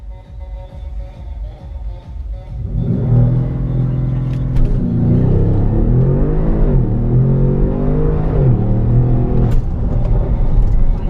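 A tuned Audi S7 pulls hard on a drive, its engine rising from a low idle-like murmur into a loud, sustained surging roar with shifting pitch as it accelerates through gears.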